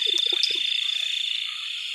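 Frogs croak in a rapid pulsing trill while an insect drone hums steadily underneath, heard outdoors at night during frog catching.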